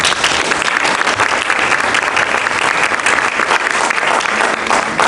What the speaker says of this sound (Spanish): Doctor Gabriel Óscar Bertona Cheraviglio, un aplauso por favor.